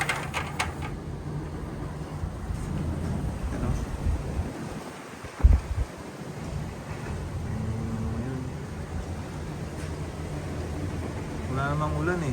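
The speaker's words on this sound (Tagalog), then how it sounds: "lakas ng hangin talaga" Strong typhoon wind roars and buffets continuously against the microphone, with gusty rumbles and occasional thuds, while a voice talks faintly in the background.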